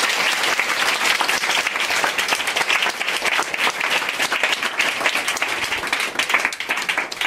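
A church congregation at a deliverance service breaks into sustained loud applause, many hands clapping densely and steadily close by, with cheering voices mixed in throughout.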